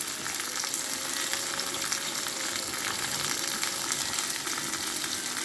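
A dense, even sizzle of curry leaves frying in hot oil, close up and continuous, with faint stirring underneath.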